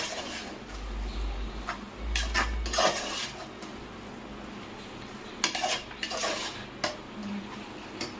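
A spoon scrapes and clinks against a metal pan while chili powder is stirred into a country chicken curry, with irregular taps and a steady low hum underneath.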